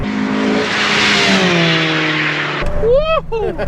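A Honda CRX SiR with a B16A VTEC engine revs hard, a loud rising engine howl that climbs and holds for over two seconds, then cuts off as a man exclaims excitedly over the end.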